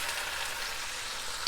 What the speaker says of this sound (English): You'll hear it sizzling.